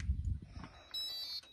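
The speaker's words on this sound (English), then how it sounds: "You'll hear it beep. That unlocks the compartment" A faint, steady electronic beep sounds once, following some low rustling, as a remote unlocks a storage compartment on a 2019 Grand Design Reflection 311BHS travel trailer.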